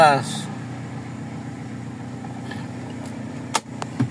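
A Toyota 4A-FE engine with an idle issue runs at a steady, low mechanical hum in a workshop, with a few brief clicks and knocks near the end.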